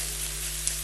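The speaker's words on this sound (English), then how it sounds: "Now, just keep on stirring." Fried rice sizzles steadily in a hot pan as it is stirred, a close, even crackling hiss over a low steady hum, with one faint tap near the end.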